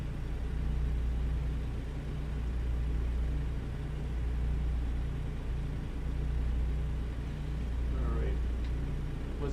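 Steady low engine drone of a truck cruising a straight highway in American Truck Simulator, a constant even rumble with no breaks, loud and close throughout.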